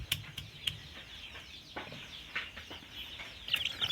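Local chicks feeding and peeping with small clucking calls, a string of short, fairly close chirps scattered over a quiet farmyard background with no talk.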